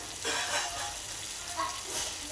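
Food sautéing in a pan with lemon juice and sugar water added, a soft uneven sizzle rising and falling with stirring, fairly quiet and close.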